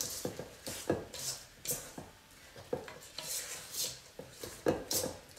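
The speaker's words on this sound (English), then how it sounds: "Mixing that all up." Cookie dough loaded with peanut butter chips, Heath bar chunks and potato chips being stirred in a bowl, heard as repeated rough scraping and rubbing strokes in an uneven rhythm, close and moderately loud, with no talking.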